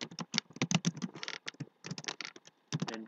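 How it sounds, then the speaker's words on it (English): Typing on a computer keyboard while entering a formula in MS Excel: rapid, close clicking keystrokes in irregular bursts, with short pauses between runs of keys. "I will type file name"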